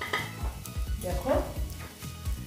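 Large eggplant slices cooking together in a pan for oil-free crispy brinjal fry, a soft sizzle broken by repeated rhythmic stirring and scraping strokes at close range, fairly quiet throughout.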